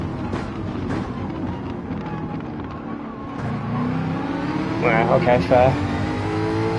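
A loud Audi race car engine in Gran Turismo 7 revs and drones steadily at Fuji, rising in pitch toward the end, while someone talks briefly over the engine.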